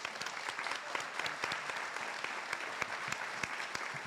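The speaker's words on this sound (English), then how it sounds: "I'd like to give a specific round of applause for Angie for her work" An audience at a housing summit in Hendersonville applauds a city staff member, with steady, dense clapping from many hands that stays sustained and fairly loud across the room throughout.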